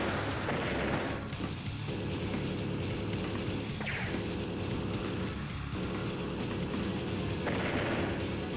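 A missile strike in Advance Wars: Days of Ruin sounds as a low rumbling game boom with a dense, droning battle texture, a couple of sharper whooshing hits rising over the steady roar, with no talking.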